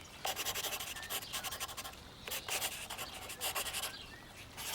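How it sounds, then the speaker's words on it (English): A pencil lightly sketching the outline of a birthday cake drawing on paper, close soft rubbing strokes in quick repeated bursts, faint and without talk. "let's grab our pencils and lightly sketch the outline of our birthday cake."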